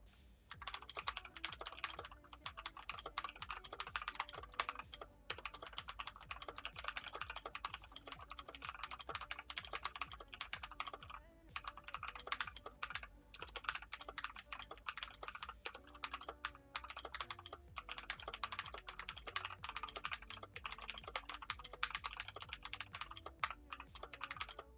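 Continuous rapid typing on a clicky mechanical keyboard, with dense, steady key clacks sounding close and loud the whole way through and no speech over them.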